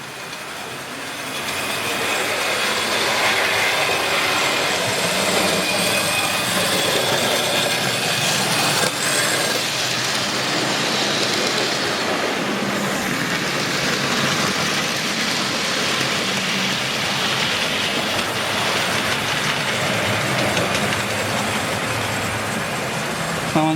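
Class N2 model locomotive running on a railway layout, a steady close rolling and rumbling hum that carries on without a break for over twenty seconds with no talk.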